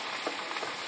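Ground meat fries in a pan for lasagne, a dense, close, steady sizzle with a faint scrape or two and no talking.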